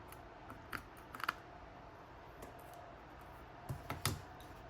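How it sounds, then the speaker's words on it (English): Scissors snip excess thread after a knot while binding a three-hole pamphlet-stitch book: a few faint, close, crisp clicks scattered across a quiet background with no talk. "And then I can cut off the excess as short as I want."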